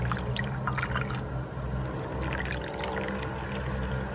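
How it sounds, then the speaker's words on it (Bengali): Plain tap water pours steadily into a bowl with a continuous close trickling splash, preparing a homemade spider-repellent spray from cigarette tobacco, with no talk over it. "এই বাটির মধ্যে জল দিয়ে দেব,"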